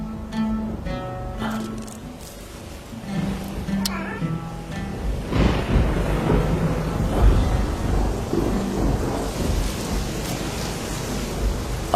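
Rain pours down as a blessing marking the birth of the Prophet Yusuf in a dramatized story, a broad steady hiss that swells in after a few seconds of soft tonal music and then continues thickly to the end.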